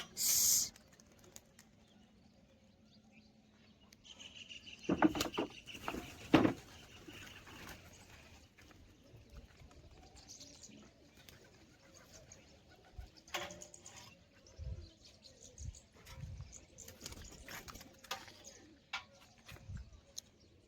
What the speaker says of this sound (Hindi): अभी हमारा कबूतर दो ऊपर बैठे